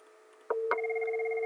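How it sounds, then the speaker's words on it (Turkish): A Cisco IP desk phone rings after a call to a hunt group, a short electronic tone starting abruptly and holding steady, clear and close in a quiet room. "direkt telefon çalıyor."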